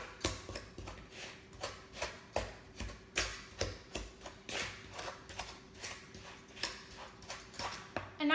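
Dry ingredients and packed brown sugar are stirred together in a bowl, a steady rhythm of soft, knocking scrapes repeating roughly two or three times per second, close and clear.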